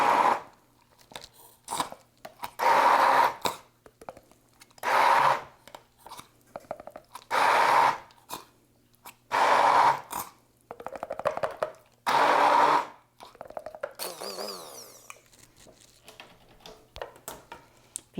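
An immersion blender purees chili in several short bursts, each a few seconds long, with quiet pauses of scraping and clatter between them.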